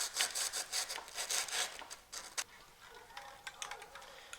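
Rusty parts from a space heater being gently scraped clean, with a quick run of rhythmic rasping strokes that ease into lighter, sparser scrapes, close by and with no talking.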